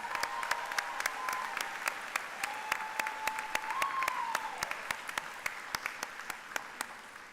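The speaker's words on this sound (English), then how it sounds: "A round of applause for Britta." An audience at a University of Wisconsin-Stout spring commencement applauds, sparse individual claps rising into steady scattered clapping, with a faint tonal hum beneath.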